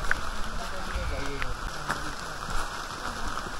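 Rain pattering on the forest trail to Wae Rebo, a steady close hiss of drops with a voice talking over it.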